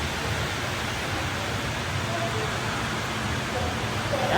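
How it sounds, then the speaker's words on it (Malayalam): Steady, dense monsoon rain at Ernakulam Junction station roaring across a broad hiss, loud and continuous with no pauses, like a heavy downpour close by. "പേരും മഴ എന്ന് വെച്ചാൽ പേരും മഴയാണ്"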